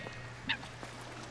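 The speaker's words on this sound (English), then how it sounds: "Lots of seagulls." Seagull call in the video game The Lost Crown, a single short squawk rising clearly above a steady low ambient hum, with no talk.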